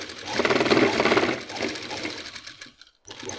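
Sewing machine stitching a band-style kameez, running in a steady fast whirring rattle for most of the stretch, then stopping briefly before starting up again.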